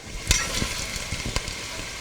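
Garlic and sliced carrots sizzle in hot olive oil in a soup pot, a steady close crackle with sharper pops and stirring scrapes throughout.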